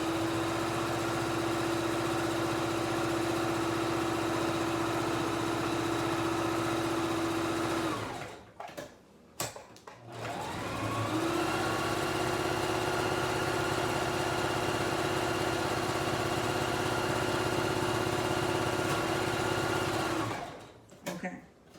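A sewing machine stitches trim onto bikini fabric in a steady close whir, stopping briefly around the middle with a few clicks before running again, then halting near the end; someone talks over it.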